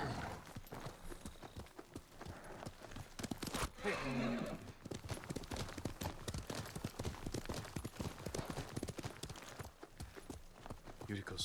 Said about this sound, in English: Yuriko's horse.